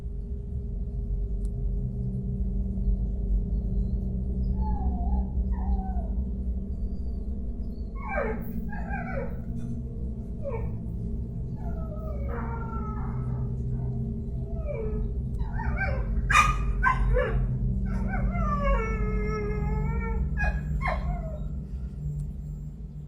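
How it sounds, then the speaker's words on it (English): A small dog barks at night at about 4 a.m. Its sharp, high yips and whimpering barks come in scattered bursts over a steady low hum, mid-distance and moderately loud, with no talking. "Her dog is barking at seemingly nothing, but as Sakina watches, she notices a shadow"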